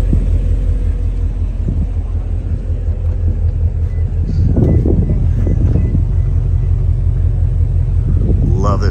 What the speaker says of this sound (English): It's just on the normal exhaust mode.